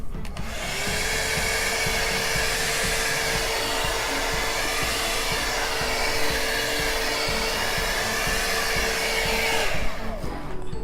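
A heat gun blows steadily over a fresh acrylic paint pour, a loud continuous whine with a rushing airflow that holds even for about ten seconds before switching off at the end.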